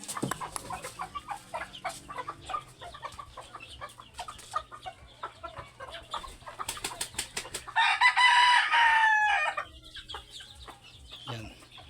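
Backyard chickens clucking continuously in scattered close calls, with one louder, longer crowing call from a rooster partway through.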